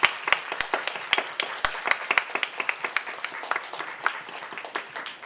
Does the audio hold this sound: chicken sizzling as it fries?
no